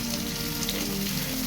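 Onions dropped into hot oil with curry leaves for chicken curry, sizzling and crackling steadily in the pan with a dense, even frying hiss throughout.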